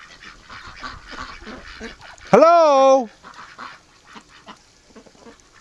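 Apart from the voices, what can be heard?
ducks quacking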